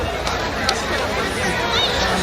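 A large crowd of over 15,000 at the Mount Pleasant sports and family day grounds makes a continuous babble of overlapping voices and chatter, with nearer voices now and then rising above the general hubbub.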